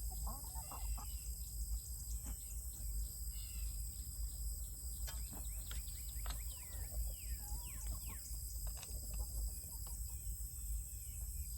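Broody hens sitting in nest boxes murmur and cluck softly in short bursts close by, against a steady background hiss of insects.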